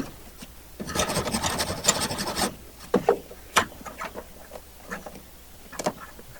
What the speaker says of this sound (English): when you're filing, file at an angle, tapering to the ends every time you do it